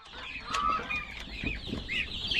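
Old English bantam chickens cluck on a farm, a dense close cluster of overlapping clucks and chatter with no voices over them.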